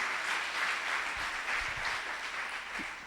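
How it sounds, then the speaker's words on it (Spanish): Sustained applause from a church congregation, a steady dense patter of many hands clapping at moderate volume, with a few low thumps underneath. "Dale un aplauso fuerte al Señor"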